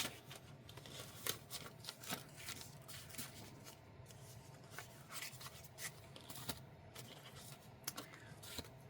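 Craft cards and paper scraps from an Echo Park and Felicity Jane stash being shuffled and handled, soft close rustles, flicks and taps in an irregular rhythm, faint and without talk.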